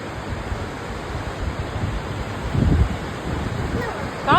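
Strong wind roars in gusts during a rainstorm, a broad rushing noise that swells louder near the end, buffeting the microphone.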